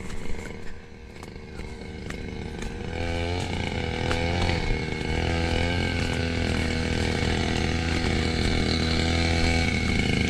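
A grass cutter engine runs in a garden with a buzzing, chainsaw-like drone. It is softer and rougher at first, then settles into a steady, louder whine for the rest of the time, with no talk.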